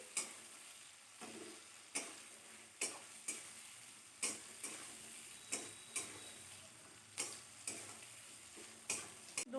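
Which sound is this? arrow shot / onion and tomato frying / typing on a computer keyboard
onion and tomato frying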